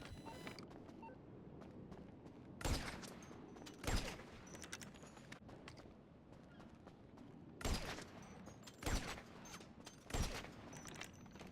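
Gunfire from a scoped weapon in GTA on PlayStation 5, heard as five sharp, loud shots spaced a second or more apart over a steady low rumble of game ambience.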